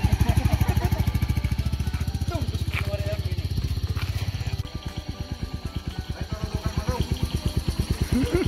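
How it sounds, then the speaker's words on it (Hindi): A Royal Enfield Meteor 350 motorcycle idles close by, its engine thumping in a steady, even beat that eases slightly partway through. "Nutan bike Meteor Enfield 350cc."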